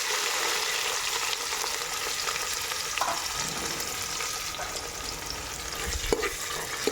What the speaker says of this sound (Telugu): ఆనియన్స్ వేసేస్తున్నాను ఫ్రెండ్స్